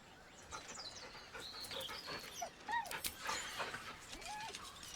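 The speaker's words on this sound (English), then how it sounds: "The dog whimpers nervously," A dog whimpers and whines in Baldur's Gate III, with several rising, wavering cries and some panting breaths over a quiet game ambience, fairly close and alone without speech.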